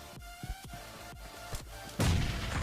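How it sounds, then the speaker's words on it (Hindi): Grenade blast in a shooter video game: a few sharp thuds and gunshots spaced out, then a sudden loud explosion burst that lingers as a dense rumble at the end. "ये मेरा लकी ग्रेनेड"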